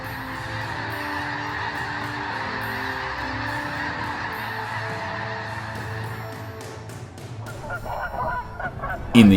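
A flock of Canada geese honking steadily, many overlapping nasal calls sustained at close range, with a louder burst near the end.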